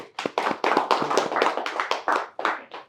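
A small audience at an AC circuit-board repair training class claps for a student, a dozen or so sharp, close handclaps in a loose, uneven rhythm with short pauses between bursts.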